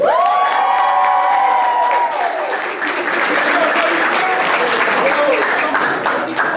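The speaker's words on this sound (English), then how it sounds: "Round of applause for my man." A showcase audience applauds and cheers loudly for a third-place announcement, with dense steady clapping and whoops throughout, including a rising shout near the start.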